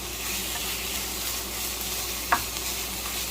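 Pizza dough frying in a pan until golden brown gives a steady, even sizzle throughout, broken once by a single brief click partway through. No voices.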